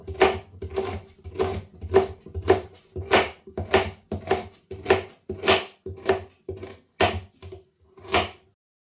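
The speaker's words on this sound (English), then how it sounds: "So we're going to slice these carrots up." A knife slices through carrots on a cutting board in a steady run of about a dozen crisp chops, close and evenly paced.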